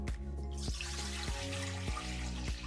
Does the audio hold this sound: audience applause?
no